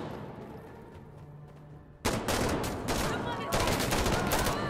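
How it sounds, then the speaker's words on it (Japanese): Warning gunfire in the shooter game Insurgency: Sandstorm: after a quiet lead-in, a sudden loud burst of rapid rifle fire sounds up close, then a second sustained volley follows. "威嚇射撃ですか？"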